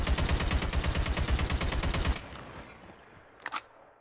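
AK47 in the mobile shooter Call of Duty Mobile, a loud rapid burst of automatic fire lasting about two seconds, then a short pause and a couple of quieter distant shots.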